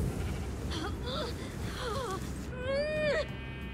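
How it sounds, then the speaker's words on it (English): Sheep bleating in the Minecraft Story Mode video game, a few short wavering calls close by, the last one longer and louder, set against steady game background noise. "The sheep."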